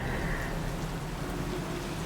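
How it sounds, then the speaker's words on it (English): Steady rain hisses across a rainy night-time street in the video game Cyberpunk 2077, a dense even wash of drops lasting the whole stretch with no talk over it. "It's raining"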